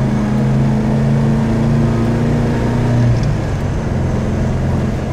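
A 1977 MGB roadster driving along, its engine droning steadily and close with a low, even hum that dips slightly in pitch partway through, alone with no talk.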